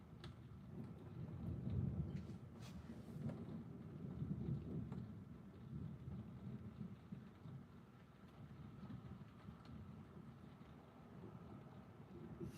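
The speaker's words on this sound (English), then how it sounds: "I got a thunderstorm going on over here. And it's loud, man. Some of these cracks are pretty loud." A thunderstorm rolls on with loud thunder cracks over a continuous deep rumble, swelling and easing in waves, with rain and wind noise beneath and no voices.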